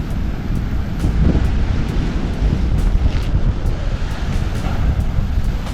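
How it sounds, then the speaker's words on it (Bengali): Rough monsoon sea waves crash and surge along the Kerala coast, loud and close, with a constant roaring wash and heavy wind buffeting the microphone throughout. "এরকম উত্তাল সমুদ্র আমি আগে কখনো দেখিনি কাছ থেকে।"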